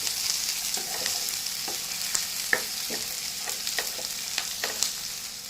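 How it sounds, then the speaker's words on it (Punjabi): Sweet corn bhurji, boiled corn kernels lightly roasting in a pan, sizzling steadily throughout with soft scattered pops and stirring scrapes, close and moderately loud, no voices. "ਬਸ ਇਹਨੂੰ ਵੀ ਹਲਕਾ ਜਿਹਾ ਭੁੰਨ ਲੈਣਾ"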